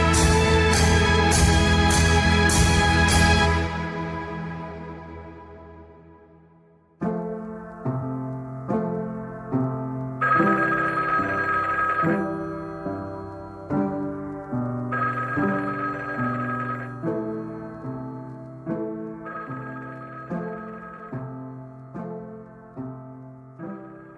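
An old-style telephone bell rings in rapid repeated bursts inside a narrative video game, fading out before a gentle melodic chime-like tune plays in a repeating rhythm.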